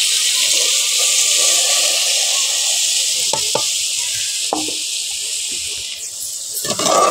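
Masala spice mix frying in a pan gives off a constant bright sizzle, joined by a few clinks and stirring scrapes near the end, with no talking.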